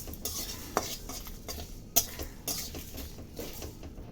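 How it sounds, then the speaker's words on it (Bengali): Whole spices and a bay leaf dry-roast in an oil-free pan, heard as quiet rhythmic scraping and clinking stirring strokes with a faint sizzle underneath, close and soft, with no speech. "এটাকে শুকনো খোলায় ভেজে গুঁড়ো করে নেব"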